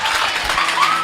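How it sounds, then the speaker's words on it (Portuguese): A church congregation breaks into a short, dense burst of applause during a sermon, a steady wash of clapping lasting about a second. "vamos aplaudir que isso aí foi forte mesmo."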